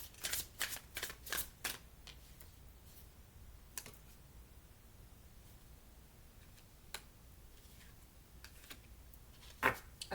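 Tarot cards being shuffled in quick riffling bursts, loudest at the start and again near the end, with quiet pauses between and no talking.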